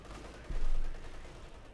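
A single muffled, low boom of gunfire rolls through a Company of Heroes 2 battle, fading over about half a second against a quiet rumbling background.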